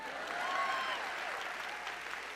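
A short burst of steady audience applause at a leadership summit keynote, fairly distant and even throughout, with no voices over it.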